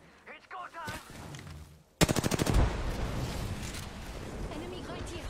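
Video game gunfire erupts in a rapid burst of loud automatic shots, then continues as sustained chaotic firing and explosions, with faint voices underneath.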